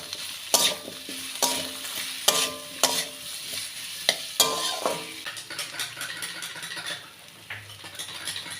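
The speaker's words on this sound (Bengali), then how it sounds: "এবার এটাকে দিয়ে আমি এটা সুন্দর করে কষিয়ে নেব।" Spice paste of coriander, cumin, green and red chilli and ginger sautés in a pan, with repeated sharp clanks of a spoon stirring over a continuous soft sizzle, close by.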